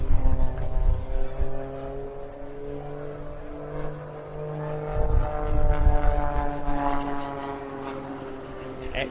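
A propeller aircraft performs multiple snap rolls at an air show, its engine droning and shifting pitch as it surges and fades at a distance over crowd and wind noise.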